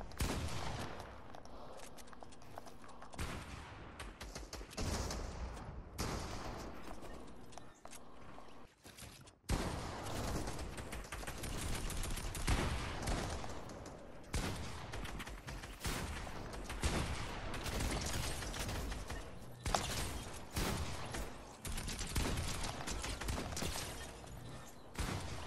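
Rapid bursts of gunfire from a Fortnite match fill the whole stretch, dense volleys and single shots overlapping almost continuously at loud, close range with no clear break.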